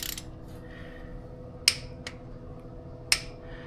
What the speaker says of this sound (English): So we got my torque wrench here, and we're going to go ahead and do 26 foot-pounds on this guy